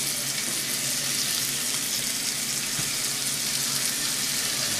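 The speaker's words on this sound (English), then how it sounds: "Devin's juicy steaks cooking good." Rib-eye steaks sizzle in a cast iron pan, giving a steady, loud, close hiss of spitting fat that runs without a break from start to end, with no voices.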